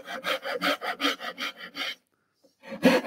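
A hand saw cuts wood for a side table on the pull stroke, about nine quick, even rasping strokes in a row, then a short pause before another stroke begins.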